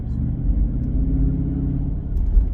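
Stock exhaust of a 2023 Chrysler 300C with the 6.4-liter HEMI, a deep steady low rumble while driving, close and continuous with slight swells in level and no talk.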